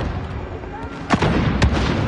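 Gunfire in the video game Call of Duty: two sharp, loud shots about half a second apart over a steady battlefield rumble.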